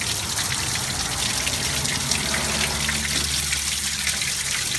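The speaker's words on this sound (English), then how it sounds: "It's starting to flow pretty clear now. Still a bit of rusty water coming out of this port." Rusty water flows steadily out of an engine port on a 1974 Ford ZG Fairlane under restoration, making a continuous close splashing gush with no talk.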